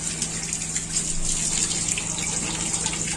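Running water rinsing frozen Artemia in a baby brine shrimp net, a steady close gushing flow with a faint constant pump-like hum underneath, no talk.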